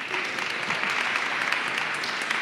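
An audience applauds warmly at a consulate evening event, with dense, sustained clapping at an even level throughout, faint scattered voices beneath.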